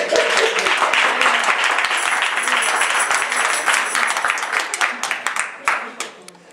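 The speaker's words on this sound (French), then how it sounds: "Applaudissez pour nous soutenir." Audience applause during a Christian church sermon: dense, steady clapping from a gathered congregation that carries through and thins into scattered claps toward the end.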